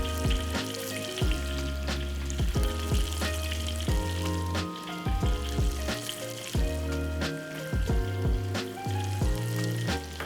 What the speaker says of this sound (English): I love deep fried stuff, so I'm gonna deep fry them. Tofu in. And the capsicums can go in as well.